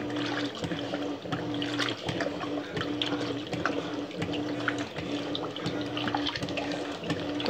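Water rushes steadily into a 12 kg Electrolux Turbo washing machine as it fills, a continuous close, moderately loud flow with faint gurgling and no voices.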